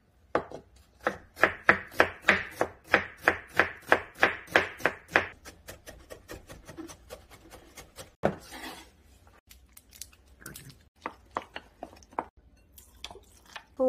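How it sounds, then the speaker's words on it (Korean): A knife slices raw fish for homemade salmon and sea bream sushi on a cutting board, starting with a quick, even run of about fifteen crisp taps, then lighter, irregular cuts with short pauses. "멋지게 썰어."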